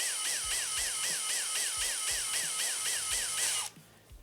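A HOTO 12V brushless drill pulses its motor in a rapid, regular rhythm, each whirring surge rising and falling about three times a second, close and clear, before stopping abruptly near the end.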